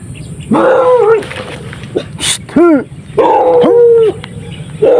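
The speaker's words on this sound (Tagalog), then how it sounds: "kasunod pala akong aso, hindi ko alam" A dog barks several times in sharp bursts, loud and close, with short pauses between barks over faint background noise.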